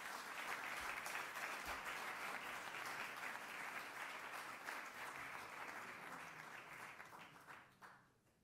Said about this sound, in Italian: i nostri premiati di quest'anno saranno salutati dal vostro applauso